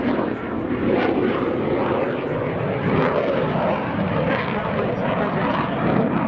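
Aircraft making a low dirty pass with undercarriage down at the RAF Cosford 2019 airshow, a steady broad engine roar held loud throughout the pass.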